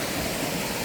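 Keralamkundu waterfalls in Kerala: dense, constant rushing roar of falling water, loud and unbroken for under a second.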